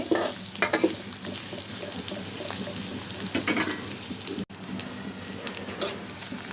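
Onion frying lightly in oil in a pan for a curry of pointed gourd and prawns, a steady close crackling sizzle with occasional stirring scrapes, continuous and without talk.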